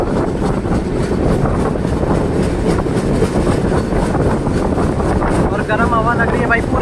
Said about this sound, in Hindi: और यहाँ पे अपनी ट्रेन स्पीड पकड़ रही है भाई पूरी।